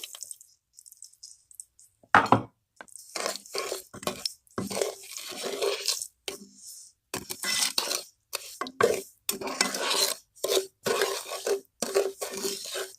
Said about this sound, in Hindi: अब हमने इसको साथ साथ हिलाते जाना है